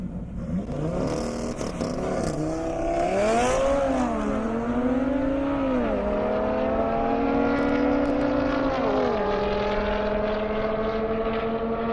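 A Roush Mustang accelerates hard down an airport airstrip in a half-mile drag race, its engine climbing loudly through several gear changes, each marked by a falling then rising pitch, and staying strong throughout.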